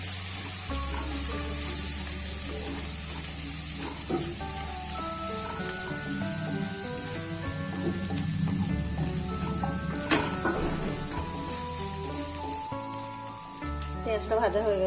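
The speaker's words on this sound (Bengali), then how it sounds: "পেঁয়াজটাকে একটু ভেজে নেব।" Onion frying in oil for a rui posto fish curry, a continuous close hiss and sizzle with occasional stirring scrapes, heard under steady background music throughout.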